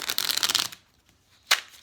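Two quick bursts of riffling from a small mini tarot deck being shuffled by hand: a longer dense flutter of cards, a short pause, then a brief second snap, close and fairly quiet.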